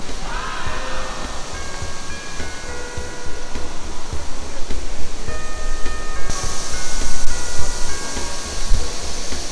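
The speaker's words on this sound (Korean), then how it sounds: "우와. 인공 폭포." An artificial indoor waterfall at The Hyundai Seoul department store gives off a steady, broad rushing wash, with faint tones and other indoor noise mixed in and no talk over it.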